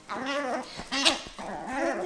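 Dogs bark and whimper close by in short, repeated bursts across the whole moment, with loud yelps rising and falling over an indoor background.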